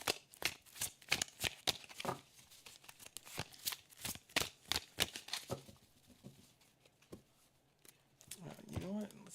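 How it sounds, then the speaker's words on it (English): Tarot cards are shuffled up close in quick riffling bursts of crisp snaps and slaps, which thin out toward the end as a voice begins speaking. "Let's get another good shuffle in there."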